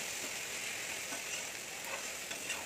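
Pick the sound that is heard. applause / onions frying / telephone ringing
onions frying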